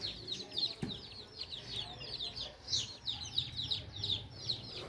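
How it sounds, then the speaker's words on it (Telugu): Young Berasa breed chicks cheep in quick, high repeated peeps throughout, fairly close, over a low background murmur with a brief knock partway through. "మీరు చూస్తున్నారు కదా ఈ కోడి పిల్లలు మిగిలినాయి"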